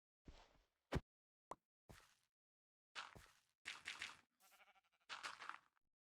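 A sheep in a video game bleats in several short, separate bursts, close and clear, with near-silent gaps between each call.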